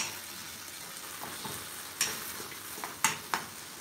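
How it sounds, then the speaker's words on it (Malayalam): Vegetables for a vegetable curry being stirred and sautéed in a pan, a soft steady sizzle broken by a few sharp spoon scrapes and clinks, quiet and close with no talking. "ഇളക്കി വഴച്ചാ."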